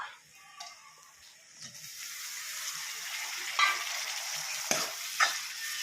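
Tomatoes go into a pan of sautéed onions, starting near quiet before a hissing fry swells and settles into a steady sizzle, broken by a few sharp clinks of a utensil against the pan.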